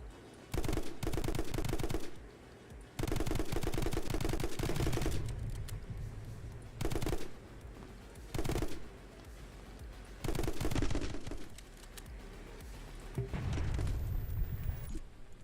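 Shotgun fire in the action video game My Friend Pedro comes in loud, dense bursts of rapid shots separated by brief gaps, with game effects throughout.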